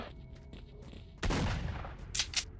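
A sudden burst of rapid gunfire in the video game S.T.A.L.K.E.R.: Shadow of Chernobyl erupts after a quiet moment, followed by a couple of sharp, bright clicks near the end.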